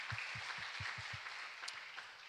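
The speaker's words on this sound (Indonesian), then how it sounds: "kita berikan tepuk tangan bagi Tuhan" A church congregation claps for a few seconds during a service, six or so low, distinct claps in quick rhythm over a faint, hissy room background.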